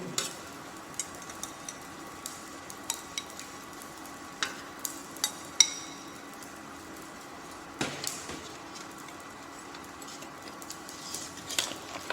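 Potatoes and other vegetables in a stew pot are stirred with a utensil, giving faint scattered clinks and scrapes over a low simmering sizzle, quiet and close.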